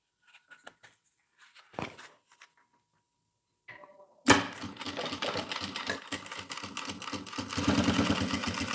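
After a few soft handling taps, a sewing machine starts and runs steadily, stitching a topstitch along a notebook bag with a continuous close whirring chatter that grows slightly louder toward the end.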